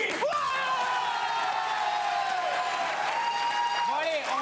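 Studio audience at a French comedy TV show applauds and cheers steadily, a dense wash of clapping with a few whoops and whistles, loud and sustained throughout.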